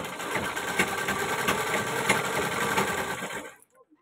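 Sewing machine running steadily as it stitches the waist border of a ghagra, a continuous close whir with a faint rhythmic pulse that stops abruptly near the end.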